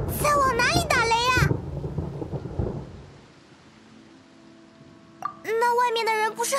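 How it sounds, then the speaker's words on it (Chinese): Thunder in the video game Genshin Impact: a low rolling rumble that rises after a character's voice, fades into a quiet stretch, then gives way to more dialogue. "在往哪里打雷呀？"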